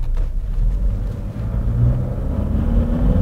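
A Volkswagen Jetta TDI diesel with a manual transmission and EGR and DPF faults is heard from inside while driving: a steady low engine and road rumble that stays loud and continuous, with no voices.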